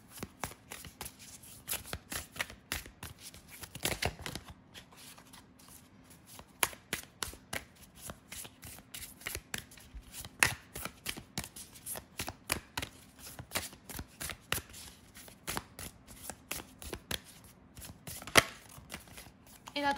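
Oracle rune cards shuffled by hand, a long run of crisp riffling snaps and soft flicks, close and fairly quiet, repeating in irregular rapid bursts without pause.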